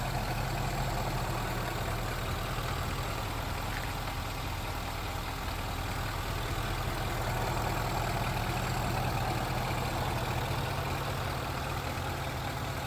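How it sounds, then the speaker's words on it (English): The supercharged 5-liter V8 of a 2013 Range Rover Sport idles with the hood open, a steady, even rumble that continues unbroken at moderate loudness with no talking. "there's that beautiful supercharged 5-liter V8"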